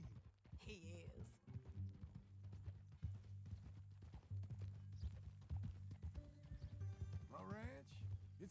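In Red Dead Redemption 2, a horse's hooves clip-clop at a steady walking pace under close male dialogue, with a brief whinny snort and a rhythmic plod that continues throughout.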